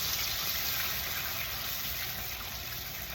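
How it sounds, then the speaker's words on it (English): White wine is poured into a hot pan to deglaze it while cooking shrimp fettuccine Alfredo, giving a continuous bright hissing sizzle and liquid rush that stays loud and even throughout, with no voices. "Now we're going to add about 5 or 6 ounces of white wine to deglaze the pan."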